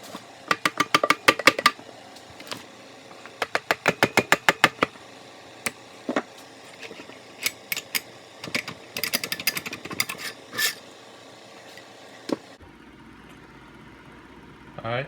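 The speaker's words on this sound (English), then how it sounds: "just a couple more whacks with the mallet, and it should come right off." Rapid bursts of sharp, ringing mallet whacks strike the cylinder of a stand-up jet ski engine being loosened, coming in quick volleys with short pauses between them, close and loud, before a quieter stretch at the end.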